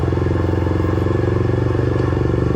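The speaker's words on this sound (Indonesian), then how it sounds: "Ini motor udah jalan normal kayak biasanya lagi" A Yamaha R15 V3 sport motorcycle idles steadily after its spark plug was fixed, with an even, close, rhythmic engine putter and no talking.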